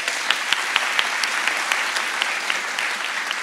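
A live comedy show audience claps, a brief burst of steady, close applause with a few sharp individual claps standing out.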